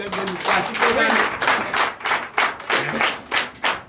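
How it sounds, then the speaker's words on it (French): A church congregation claps loudly in a rhythmic beat, with bursts of hand claps about twice a second and voices mingling underneath. "je vous demande d'applaudir très fort"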